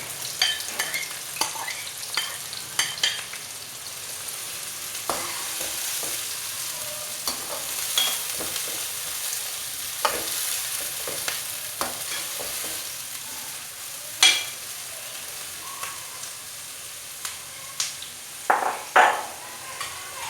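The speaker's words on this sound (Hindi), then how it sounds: "आप देख सकते हैं प्याज हमारे फ्राई हो रहे हैं।" Onions sizzle steadily in hot oil for chicken karahi, a continuous frying hiss broken by scraping stirs and occasional louder clinks of a utensil against the pan.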